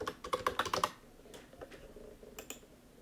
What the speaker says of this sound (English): you can do that by typing settings in the search bar